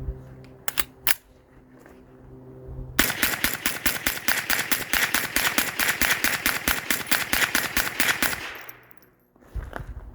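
A CMMG .22 LR conversion rifle fed from a Smith & Wesson 1522 magazine with the Redi-Mag system fires 25 rounds of Federal ammo as a rapid, evenly spaced string of sharp, close cracks, after a few isolated clicks.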